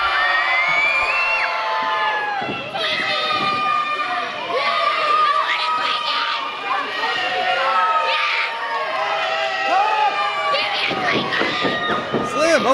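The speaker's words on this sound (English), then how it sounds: "Scream for Twinkie!" A crowd at an indoor wrestling event screams, whoops and cheers, a loud continuous mix of excited shouts and high yells from many people, including children, with some chatter throughout.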